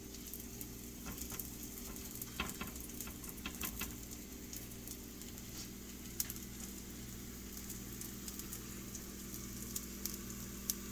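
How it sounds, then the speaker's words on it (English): Green onion cakes fry in a little oil in a pan, a faint, steady patter of small crackles and pops over a low constant hum, with a few sharper spits scattered through. "Just add a little bit of oil on your pan and then put in your green onion cakes."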